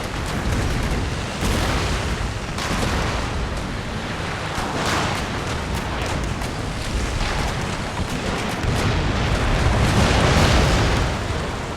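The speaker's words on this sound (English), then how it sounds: "Yeah, broadside from that range." A warship in Empire: Total War fires a cannon broadside, a sustained, loud rumbling barrage of overlapping booms and blasts that rolls on for many seconds without letup.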